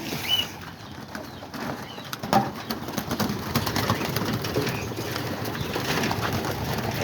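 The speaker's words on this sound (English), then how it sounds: "we'll end up this video by feeding the pigeons" Pigeons in a backyard coop at feeding time, with soft cooing and a brief burst of wing flapping over steady low outdoor background noise.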